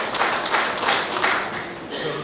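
An audience at the Air Cargo India 2016 conference applauds steadily and densely for a speaker being introduced, a continuous wash of clapping that holds at an even loudness throughout.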